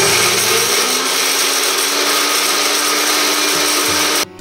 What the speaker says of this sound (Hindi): फिर उसके बाद हम इनको मिक्सी में अच्छे से ग्राइंड कर लेंगे।